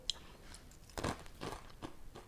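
Crunchy yakisoba-flavoured dried noodles are bitten and chewed close to the mic, giving a few quiet, brittle crunches in an otherwise hushed room.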